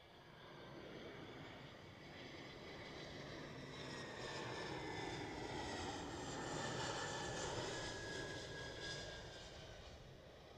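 Swiss short-haul airliners landing at Zurich airport make a faint, distant engine roar that swells gradually and fades again over about ten seconds.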